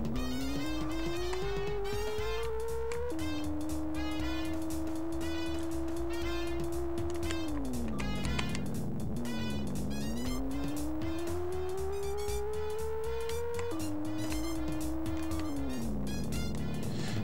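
A car driving through San Francisco streets in the Atari Jaguar game Club Drive, its droning synthetic engine tone holding loud and steady, then dipping and climbing again with each gear change.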